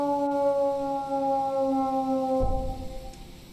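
An emergency vehicle siren in the game EmergeNYC holds a steady, loud, multi-tone wail, then cuts off abruptly partway through, leaving a low rumble that fades away.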